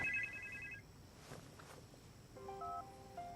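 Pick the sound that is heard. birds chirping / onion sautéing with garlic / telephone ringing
telephone ringing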